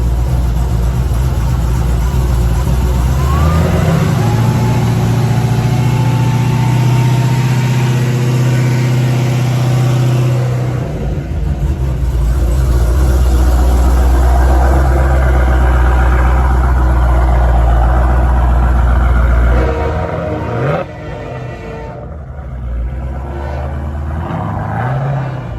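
A Cadillac CTS-V fitted with a Kong Performance LSA blower and Stage X porting idles loud and deep up close, revs with a rising whine, then settles back to a steady, lumpy idle.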